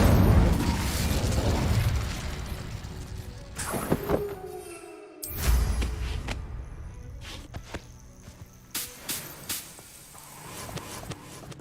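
Incendio fire spell cast in the Hogwarts Legacy video game, a few heavy whooshing bursts and booms, then scattered sharp pops and clicks fading out, with no talking.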